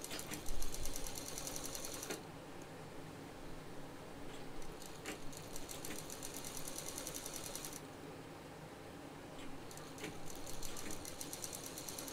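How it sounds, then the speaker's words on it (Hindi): A sewing machine stitches a handbag seam in a steady, fast mechanical whir with rhythmic needle clatter, running continuously up close with brief shifts in pace and no speech. "इसको हम यहाँ पे इस तरह से सिल देंगे"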